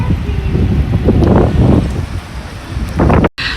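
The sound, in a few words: heavy rain and strong wind in Makkah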